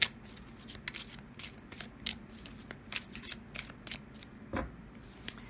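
Colour goddess oracle cards being shuffled by hand, a run of crisp papery riffles and flicks with soft rustling between them, close and alone without speech.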